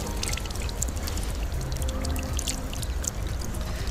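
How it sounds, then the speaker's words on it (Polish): Water runs steadily from a beach drinking fountain tap, a continuous close splashing pour with a faint trickle, no talking. "Tutaj jest dla ludzi, którzy biegają, taki kranik."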